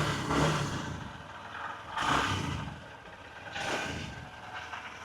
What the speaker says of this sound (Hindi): ये देखो आइडियल कंडीशन पर इंजन साउंड, एग्जॉस्ट नोट, थोड़ा सा थ्रोटल देता हूँ।